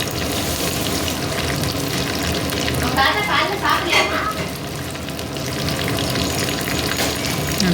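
Chicken 65 pieces with curry leaves frying in hot oil, a loud, steady sizzle and bubbling close up with a brief stirring rattle in the middle.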